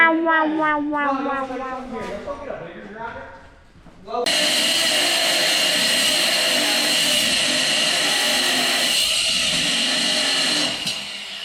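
An angle grinder, likely a DeWalt, switches on partway through during a radius rod install in a shop and runs steadily and loudly for several seconds before cutting off, with speech before it starts.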